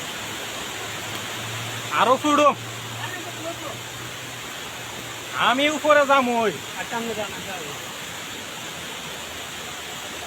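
A hillside waterfall at Rawang in Selangor, Malaysia, makes a steady broadband rush of water, while someone speaks in short bursts over it.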